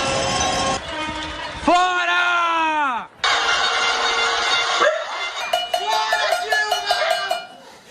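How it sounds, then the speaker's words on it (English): Street protest in Sao Paulo, with people banging pots and car horns honking from nearby. A long wavering horn-like tone and rapid metallic clanging mix with loud shouting voices. "People were banging their pots, honking their horns."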